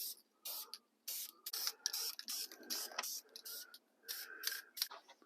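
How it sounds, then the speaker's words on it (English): Blue spray paint spritzes onto a part of an old Galaxie wagon in a series of short hissing bursts with brief gaps between them, close and sharp, with no talk over them. "So now I guess we'll spritz it with a little blue"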